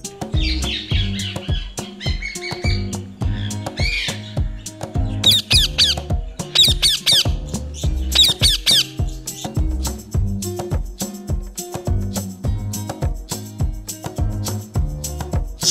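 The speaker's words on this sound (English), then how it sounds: "And the sound of the parrot is..." Harsh, raspy parrot squawks burst out repeatedly over a steady rhythmic musical backing, loud and close.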